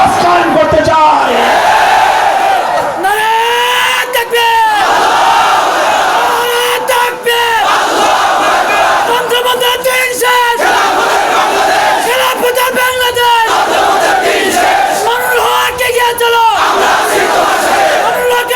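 A large outdoor rally crowd roars slogans in unison, with loud massed shouting in repeated bursts over roughly eighteen seconds, fists raised in a Bangladeshi religious-political gathering.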